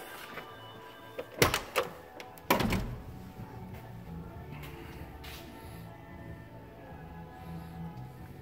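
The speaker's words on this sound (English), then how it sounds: "Side doors." Side doors of a 1991 Chevy Roadtrek camper van with 25k original miles swing shut with two solid thunks a second apart, close and fairly loud, then low idle background hum.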